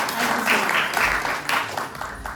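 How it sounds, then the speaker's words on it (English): An audience at a university entrepreneurship showcase applauds a founder, a dense burst of clapping that swells and fades over a couple of seconds. "So a big round of applause for him"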